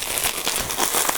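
Crinkling and tearing of plastic and paper packaging as an Alien collector's edition package is ripped open, a steady close-up crackle lasting just over a second with no voices.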